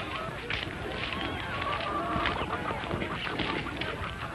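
Hen held in a person's hand clucking and squawking, dense fowl calls running continuously at close range, with voices talking faintly in the background.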